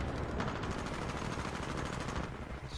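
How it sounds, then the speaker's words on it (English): Sustained rapid gunfire in Titanfall 2, a dense steady stream of shots lasting the whole stretch at a consistent loud level, with no talking over it. "It's really hard to shoot while jumping in this game."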